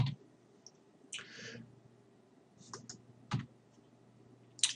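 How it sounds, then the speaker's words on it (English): A computer keyboard is typed on in short, sparse bursts of close clicks while a web address is entered in Windows 8, with quiet gaps between the keystrokes. "all we need to do is add a space and type in where we want to go to"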